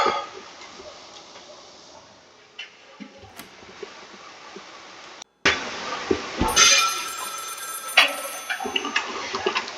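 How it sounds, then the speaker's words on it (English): A telephone rings inside a horror video game, a bright repeating ring that arrives after a brief silent gap, over a dim ambient drone and faint clicks. "I can hear a phone ringing"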